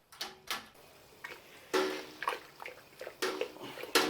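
A paddle stirs grain mash in a brewing pot for a double dry hopped New England IPA, making soft wet sloshes and occasional knocks against the pot in uneven strokes, close and fairly quiet.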